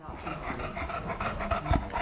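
A dog pants in quick, rhythmic breaths close by, with a faint whimpering tone and some background noise throughout.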